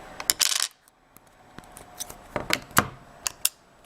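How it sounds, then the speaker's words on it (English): An iPhone 4S SIM card tray is popped out with a tool, giving a few sharp metallic clicks and small taps close up, separated by short quiet gaps. "Go ahead and pop out the SIM card in this version here."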